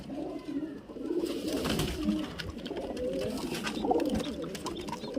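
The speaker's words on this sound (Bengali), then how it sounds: "দুটো বাচ্চা পায়রা একই তায়ের বাচ্চা" Soft, low cooing of highflyer pigeons repeats close by in a murmuring cluster, with faint rustling in the background.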